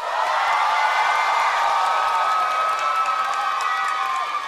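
A studio audience at a televised singing competition claps and cheers in a loud, sustained wash of applause mixed with shouts and whoops, holding steady throughout before easing slightly at the very end.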